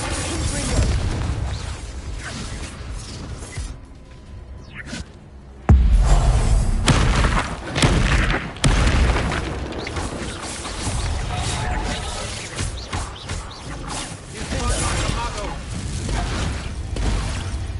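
Repeated Confringo spell blasts in Hogwarts Legacy combat, heavy booming bursts and crashing thuds landing in uneven succession amid a busy, loud battle mix, with one especially sharp impact partway through.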